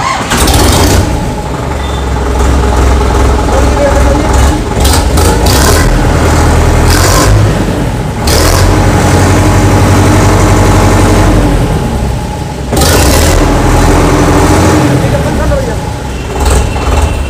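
An ACE DI 6565 V2 tractor from 2021, a 61 hp diesel, runs with a steady low rumble throughout, loud and close, while people talk over it. The engine note dips briefly a few times.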